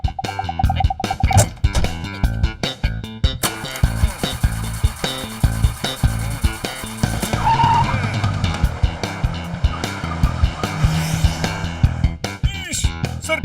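A government jeep speeds off in a cartoon chase scene, its engine roaring with tire screeches and whooshing effects, loud and continuous over a busy music score, with brief voices at the start.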